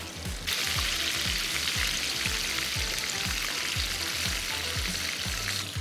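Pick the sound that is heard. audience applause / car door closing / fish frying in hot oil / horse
fish frying in hot oil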